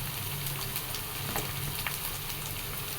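Ginger, shallots, green chilli and curry leaves sautéing in hot oil for a sardine curry, an even, dense sizzle holding steady with faint occasional pops.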